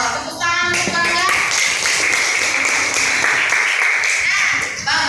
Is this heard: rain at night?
no